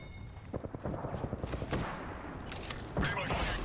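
Enemy gunfire in a shooter video game, with rapid bursts of shots rattling in quick succession, pausing briefly, then a heavier blast, all mixed with other game sounds.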